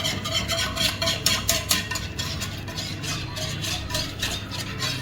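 Thick white sauce for Mexican chicken pasta being stirred in a heavy pan, a steady scraping swish with repeated stroke-like pulses running throughout the whole stretch, close and fairly loud with no voices.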